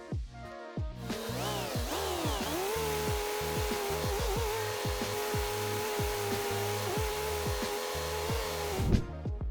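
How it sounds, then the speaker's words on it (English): A tractor mowing grass in Farming Simulator 25, its engine revving up, then droning at a steady high pitch for several seconds before cutting off, with rhythmic mechanical thumps underneath. "Now back to the field to finish mowing the grass"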